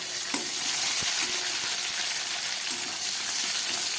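Onion, tomato and a green chili frying together in a pan, giving a soft, even sizzle with a few light clicks from stirring.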